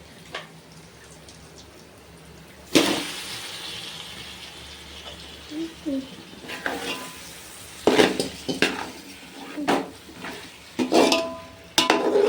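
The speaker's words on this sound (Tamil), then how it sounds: "இப்போ சிக்கன் போட போறோம்." Chicken pieces tipped into a pan of fried onions and tomatoes for chicken biryani. A sudden clatter and sizzle is followed by a string of scrapes and clinks of utensils on metal, heard alone and close.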